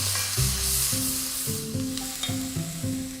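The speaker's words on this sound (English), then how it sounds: "Now add 2 large sliced onions and 2 cloves of garlic. Give that a good stir round." Two large sliced onions and two cloves of garlic sizzle steadily in a pan while being stirred, with a soft tonal melody running underneath the whole time.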